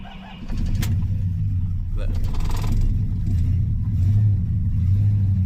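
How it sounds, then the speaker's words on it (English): A Dodge W150 truck's 360 engine cranks and catches, then settles into a steady, loud idle that runs continuously at close range. "This 360 has been a very reliable motor"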